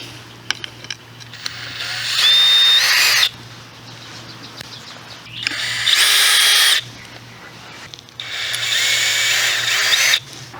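A power drill backs screws out of string line stakes on an outdoor brickwork job, running in three loud whirring bursts of a few seconds each, separated by short pauses, close by.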